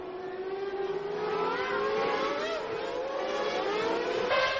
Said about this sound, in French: Häkkinen et Coulthard s'infiltrent, les deux McLaren Mercedes sont en tête du Grand Prix d'Italie.